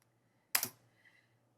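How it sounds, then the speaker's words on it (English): A computer keyboard gives one quick burst of clicks, a couple of close, sharp keystrokes merged together, near and alone against a faint low hum in an otherwise quiet room. "I'm going to click my keyboard in between posts so that you can tell where they separate"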